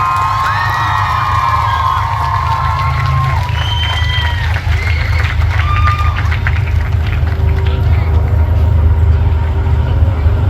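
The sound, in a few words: applause for dance teams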